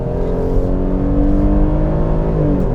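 A 2021 Dodge Durango SXT three-row SUV pulls onto a highway, its engine a steady loud drone with rising revs and constant road and tyre roar heard from inside the cabin, no voices.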